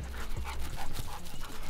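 A hunting dog on a Georgia quail hunt pants rapidly and steadily, close by, with faint background noise.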